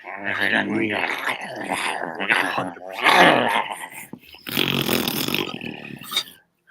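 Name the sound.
person growling in imitation of a beast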